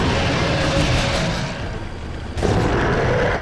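Rapid TMP submachine gun bursts in Resident Evil 4, a dense loud rattle that drops briefly midway and then resumes, heard alone without talk.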